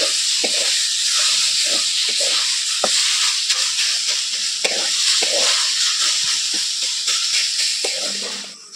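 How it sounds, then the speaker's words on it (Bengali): Grated potato fries in oil in a pan with a loud, continuous sizzle, while a spatula stirs and scrapes in irregular knocks and clicks. "কিছুক্ষণ আমি এভাবে নাড়াচাড়া করে একটু ভেজে নেবো"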